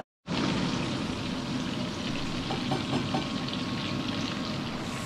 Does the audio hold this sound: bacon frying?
yes